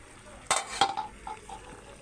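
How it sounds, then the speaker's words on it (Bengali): Masoor dal with taro stolons in a pot is stirred by hand, giving two or three quick scraping knocks against the pot followed by softer clinks and a quiet bubbling tail, close and brief. "এখন নেড়ে নিব"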